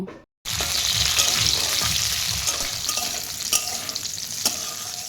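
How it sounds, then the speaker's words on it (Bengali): Cauliflower florets fry in hot oil, the same oil just used for peanuts, giving a steady, loud, close sizzle with faint scraping stirs and no talk, after a short silent gap at the start. "এবার ফুলকপিগুলোকে একটু হালকা করে ভেজে নেব"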